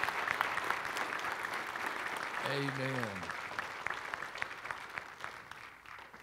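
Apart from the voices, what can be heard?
audience applause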